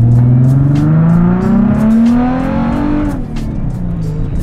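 Supercars, including a BMW i8, Audi R8 and Mazda RX-8, race on a track in Karachi; a loud, close engine drone climbs steadily in pitch as it revs, then drops as it eases off, with no talk.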